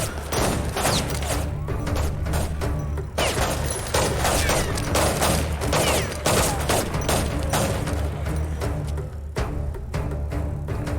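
Dense, continuous bursts of gunfire and explosions from the real-time strategy game Act of War crackle and thump without pause, loud and layered, with faint voices underneath.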